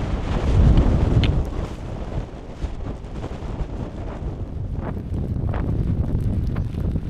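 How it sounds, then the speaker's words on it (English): Strong wind roars across a rain-lashed mountain top, buffeting the microphone in loud, continuous gusts that swell and ease without pause; no one speaks. "it was blowing a hoolie, absolutely hosing it down with rain"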